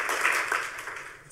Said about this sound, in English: do some clapping so they can hear it on the video too